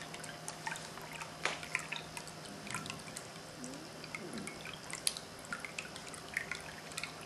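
Water drips and trickles steadily from a raindrop-style ceramic cat drinking fountain with a mahogany leaf glaze, faint and close, with irregular small plinks over a low hum.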